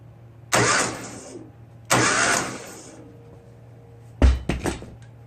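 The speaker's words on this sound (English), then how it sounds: "In this way, you can cycle the engine without turning on the ignition." A Ural motorcycle engine cranked by a remote starter button with the ignition off, during a compression test: two loud churning bursts, then a shorter choppy burst of several quick pulses, close up with no voices.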